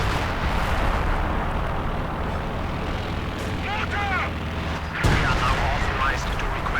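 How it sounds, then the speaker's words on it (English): Incendiary artillery fire in a World War II strategy video game: a continuous, loud rumbling barrage with a sharp, heavy impact near the end and scattered crackling over it. "Incendiary artillery going in as well."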